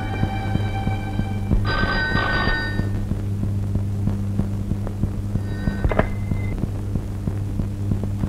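A telephone rings indoors in two short bursts, one near the start and a fainter one later, over a steady low electrical hum.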